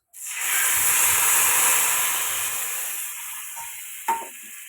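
Tomato chutney tipped into a hot tempering of mustard seeds and asafoetida erupts in a loud, close sizzle that holds steady, then gradually fades, with a light clink near the end.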